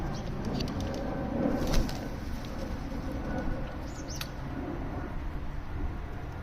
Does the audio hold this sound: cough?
no